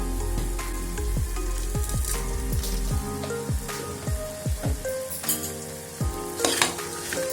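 Spiced mutton curry with raw mango and tender tamarind leaves is stirred in a pan, giving a steady close sizzle with repeated scraping strokes and soft clinks of the spoon, and no one speaks.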